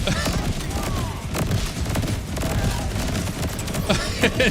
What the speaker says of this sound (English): It's just explosions endlessly.